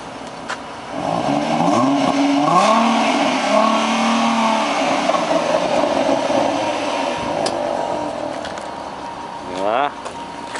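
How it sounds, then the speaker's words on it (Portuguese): A Ford Mustang engine revs in neutral while parked, a sustained throaty drone that rises and falls through several throttle blips before a sharp rev near the end, with people talking nearby. "Dá uma acelerada aí, de ponto morto."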